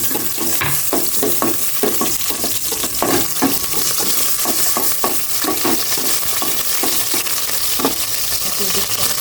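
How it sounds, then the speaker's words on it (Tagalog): Garlic sautéing in a home kitchen pan, a steady loud sizzle of frying with repeated scraping and stirring strokes throughout, no talk. "Igisa ko na po ang bawang"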